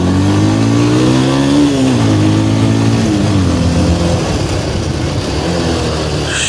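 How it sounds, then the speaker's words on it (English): A car engine revving loudly on a road to Kurseong, its pitch rising and falling as it passes close by, a continuous throaty drone filling the whole stretch without talk. "That was a car."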